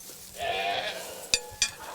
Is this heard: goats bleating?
yes